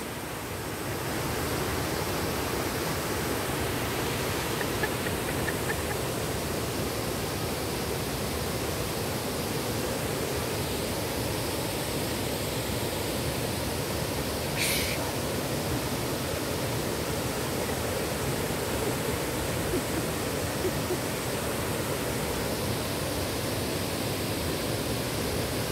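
Pinsal Falls roaring in a dense, unbroken rush of falling water heard up close from above, steady and loud throughout with no letup.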